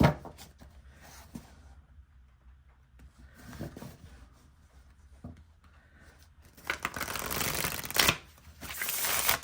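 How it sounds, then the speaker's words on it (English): Soft papery handling of tarot cards at first, then louder riffling shuffles toward the end, close and clear with no talking. "That is such a beautiful shuffle."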